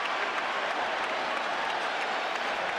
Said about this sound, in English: The crowd living every single minute.